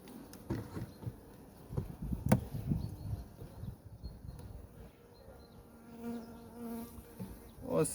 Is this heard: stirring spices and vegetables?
no